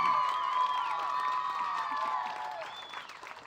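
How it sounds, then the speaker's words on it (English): Crowd applause with cheering and whistles for a young woman named champion at a junior livestock show, steady and fairly loud before tapering off slightly near the end. "Give her a good round of applause"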